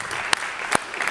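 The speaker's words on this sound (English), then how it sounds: "Give Janelle a big round of applause." A short burst of audience applause at a business networking event as a guest is cheered on; a couple of sharper claps stand out in the brief, steady patter.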